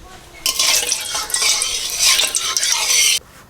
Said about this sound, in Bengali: আলু ভাজবো তেল দিয়ে দিচ্ছি